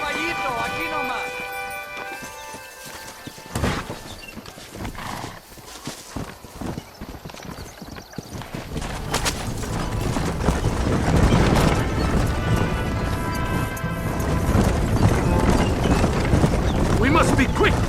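Horse hooves clip-clop in Red Dead Redemption as riders head out in a Mexico mission, a steady trotting beat under game dialogue and ambient noise, growing busier and denser toward the end.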